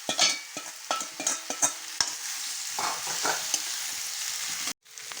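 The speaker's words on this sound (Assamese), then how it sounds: "এতিয়া মই অকণমান ফ্ৰাই কৰি ল'ম" Boiled jackfruit sizzles in a little oil with turmeric while it is stirred, giving close, uneven scraping stirs over a steady frying hiss.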